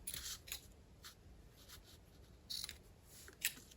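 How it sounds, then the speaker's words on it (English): Crisp snips of paper scissors cutting paper or card stock, several quick cuts in irregular bursts, close and fairly quiet with no voices. "these are my paper scissors, and I shouldn't be using them"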